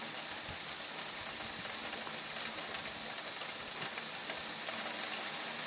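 Heavy rain pours steadily and loudly in Lœuilly, France, a dense unbroken hiss close by with a few sharper drips and spatters, no voices over it.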